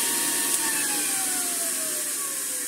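An antique 1930s Hoover 825 vacuum cleaner running, a steady loud whine and airy roar with a slowly falling tone, continuous and close throughout.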